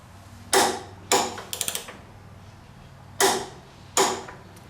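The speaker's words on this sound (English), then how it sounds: "And now we're gonna torque the axle" Torque wrench clicks while tightening the axle bolt on a Honda VTX 1300 motorcycle during a fork oil change: four sharp, close ratcheting snaps, one followed by a quick burst of smaller clicks, with quiet gaps between.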